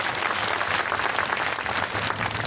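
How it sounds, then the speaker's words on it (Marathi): Audience clapping during a fiery political speech, a dense, steady burst of applause from a crowd filling the whole stretch, loud and close with no talk over it. "आमचा रोहित दुधगावड्या टाळ्या वाजवत त्याला."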